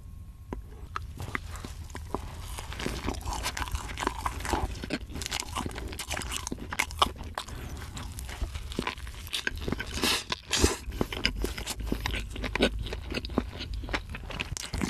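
Crunchy bites and steady wet chewing of a burger with a cooked patty and mushrooms, close and continuous, with dense crackling crunches throughout and no talking.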